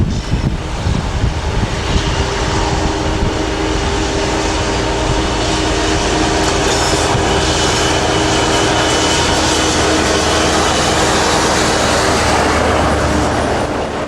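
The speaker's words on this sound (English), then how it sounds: "Class 58s were once a common sight at Didcot, delivering Nottinghamshire coal to the power station." A British Rail Class 58 diesel locomotive roars past hauling a train, a loud, dense engine drone with rumbling wagons filling the whole stretch without a break.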